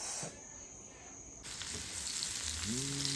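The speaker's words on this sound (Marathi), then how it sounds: "आता मस्त फक्त तळून खाऊचं बस" Marinated prawn lollipops fry in hot oil, giving a steady hiss that grows louder partway through, heard close with a faint tonal hum near the end and no talking.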